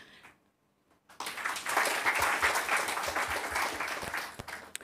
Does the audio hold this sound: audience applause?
yes